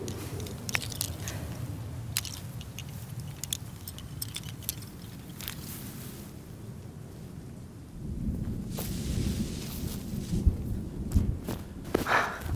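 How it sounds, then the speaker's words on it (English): A thunderstorm rolls through with low rumbling thunder and a wash of rain, swelling louder and heavier partway through, punctuated by sharp crackles. "Ah, another storm brewing."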